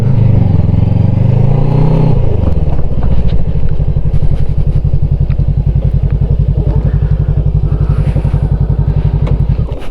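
A Voge 500DS or Honda CB500X motorcycle engine revs up, dips as it shifts, then settles into a steady, loud, close pulsing drone under wind noise.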